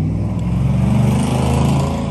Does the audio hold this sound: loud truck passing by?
yes